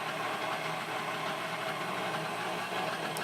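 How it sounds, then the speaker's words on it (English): A KitchenAid stand mixer churns bread dough with a continuous, even motor whir and faint rhythmic knocking, steady and close throughout. "I'm going to let my KitchenAid do all my hard work for me."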